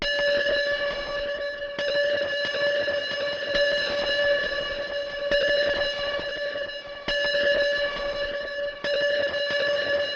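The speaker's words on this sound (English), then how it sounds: "So you can hear it has a bit of a crazier delay where it just like kind of goes on, but it keeps this kind of cool rhythm." A tonal, distorted snare layer treated with flanger and an extra long delay repeats in a steady rhythm, its ringing pitched tail smearing continuously between hits, loud and alone with no voices.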